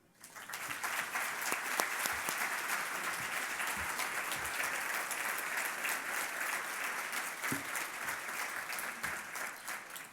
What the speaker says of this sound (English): Will everyone join me in a round of applause for Shana Johnson, MC of the 52nd Michigan Week Awards Breakfast?